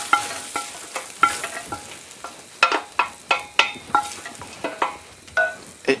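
Onions browning in a cast-iron cocotte give a soft sizzle beneath a dozen or so crisp scraping stirs, each a sharp, close scrape that fades quickly, spaced irregularly throughout.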